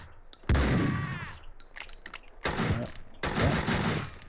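Gunfire in the video game Max Payne 2 comes as three loud bursts of shots separated by short gaps, each cracking sharply then decaying, with scattered clicks between.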